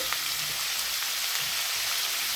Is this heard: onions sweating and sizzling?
yes